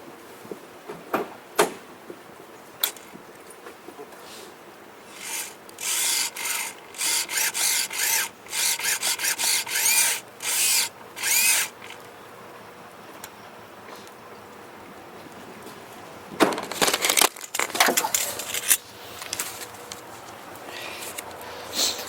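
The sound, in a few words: car servo motor being turned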